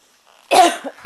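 A single sharp cough, close and loud, followed by a short second burst.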